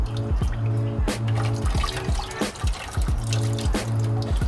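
Water poured onto an Injen Hydro Shield pre-filter cover on an intake filter falls in a series of close splashing pours and drips, rhythmic and fairly loud, with no voices.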